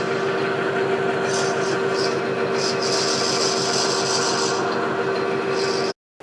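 A lathe cuts an O-ring groove into a pressure washer hose adapter, a steady loud machining hum with a constant tone and scraping texture that stops abruptly near the end.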